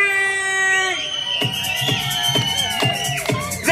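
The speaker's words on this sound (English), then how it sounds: "I need all of you to cheer as loudly as you can" Children in a Legoland Windsor show audience cheer and scream in a sustained high-pitched roar, then music with rhythmic beats starts underneath as the shouting continues.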